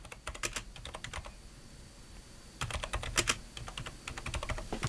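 Computer keyboard typing a command: bursts of rapid, crisp key clicks in two clusters separated by a pause, close and moderately quiet over faint room hiss.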